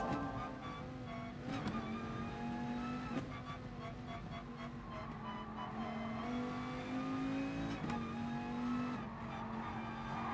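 Race car engines in GT Sport drone steadily at close range, with pitch rising and dropping through gear changes and a brief tire squeal, a BMW running nearby in the pack throughout.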